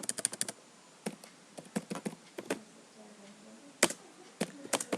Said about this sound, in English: Now let's type one more question here